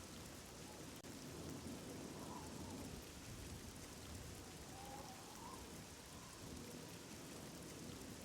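Steady rain falls with a dense, even hiss, carrying faint low rumbles like distant thunder throughout.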